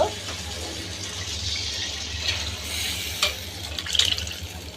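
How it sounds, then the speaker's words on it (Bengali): Water from softened hilsa fish pours and sizzles into a hot pan against a low steady hum, with a few brief splashes and clinks near the end. "মাছের পানিটা দিয়ে দেব, সবগুলো দিয়ে দেব।"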